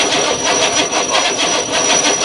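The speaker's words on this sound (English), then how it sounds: "like I said, I got a bad battery. Crank her up!" Car engine cranking over on a weak, bad battery at a cold start, a steady droning, pulsing grind that runs loud and close throughout without catching.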